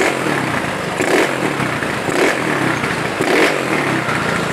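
Motorcycle engine running after carburetor jetting adjustment, close and loud, with several quick revs that rise and drop back promptly to a clattering idle, evenly spaced about a second apart.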